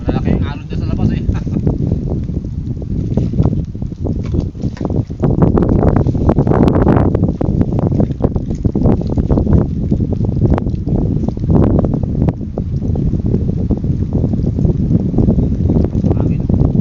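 Strong wind at sea with big waves roars continuously across the microphone in heavy, gusting buffeting, loud and close, with water sloshing beneath and a voice speaking at times.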